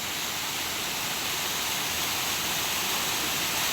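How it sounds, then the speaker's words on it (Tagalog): Steady, dense rush of a waterfall at Sulfur Mountain in Valencia, Negros Oriental, after rain, a continuous broadband roar of falling water that holds constant and fairly loud throughout with no voices. "may falls. May tubig na umaagos."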